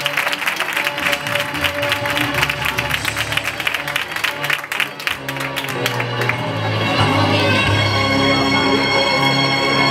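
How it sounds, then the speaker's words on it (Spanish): An audience applauds a bolero singer with sustained, loud clapping that fills the whole stretch, swelling toward the end, with some crowd voices mixed in. "Un fuerte aplauso para ella."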